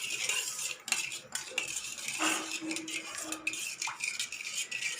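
A spoon mixes yeast and sugar in a small bowl or cup, making quick, close metallic clinks and scraping stirs in a busy, continuous rhythm with no talk.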